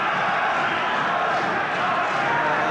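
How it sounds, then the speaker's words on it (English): A boxing crowd roars steadily throughout, a dense wash of cheering and shouting for fighter Terry Marsh at a 1985 bout against Peter Eubank. "fireman and fan club friends there, trying to cheer him on"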